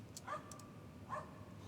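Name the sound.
sampled dog barking in a song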